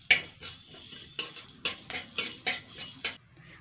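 Whole coriander seeds, about a spoonful, being stirred in a dry pan for a breakfast dish: a rapid series of about ten close, crisp scraping and rattling strokes, each a short bright burst, with no talking.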